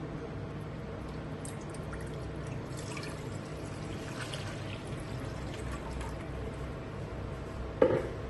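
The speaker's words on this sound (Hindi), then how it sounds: "यहाँ पे एक हम बर्तन लेंगे, इसमें पानी शामिल करेंगे।" Water is poured into a cooking pot while preparing mango pickle, producing a steady, low, continuous splashing that lasts throughout, with a brief clink of the pot near the end.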